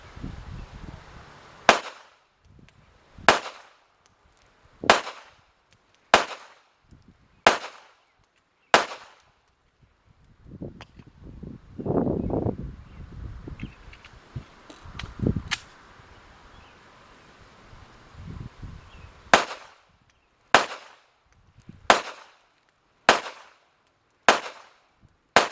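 A Glock 42 .380 Auto pistol fires at a shooting range, sharp close shots in two spaced strings of about six, separated by a quieter gap of handling and faint voices.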